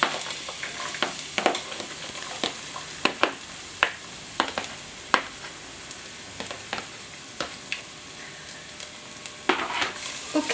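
Garlic sautéing for chicken adobo with coconut milk: continuous hot-oil sizzle close up, broken by frequent crisp spatula clicks and scrapes against the pan as it is pressed and stirred, no voices.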